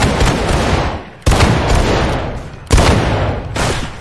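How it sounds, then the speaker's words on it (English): Musket volleys fired by file in a Roblox game, heard as three loud rolling bursts of overlapping shots, each one fading before the next crashes in, close and harsh with no talk between them. "Firing by file from the left. Fire."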